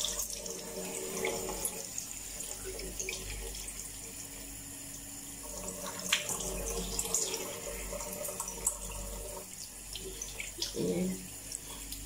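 Tap water runs steadily into a sink for face washing, a soft continuous splashing stream with brief louder splashes near the end, heard at moderate distance under a quiet voice.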